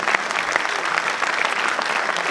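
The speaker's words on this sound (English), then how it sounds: "please give her a huge round of applause again" An audience at an annual day function breaks into sustained, dense applause, many hands clapping steadily and fairly loud throughout.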